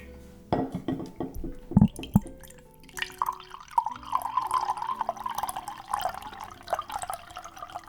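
Liquid poured into a mug in an ASMR setting, a series of drips and splashes followed by a steady, close trickle that continues to the end.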